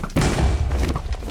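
Explosive arrows from a bow strike the Ender Dragon in Minecraft, producing a sudden loud boom followed by rumbling, overlapping blasts that continue for about a second.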